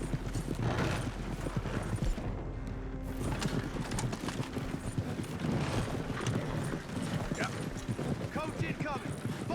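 Hooves clip-clop steadily as a horse-drawn wagon rolls along in the video game Red Dead Redemption 2. The close, rhythmic hoofbeats come with a rattle of wheels and tack, over a busy game backdrop with voices mixed in.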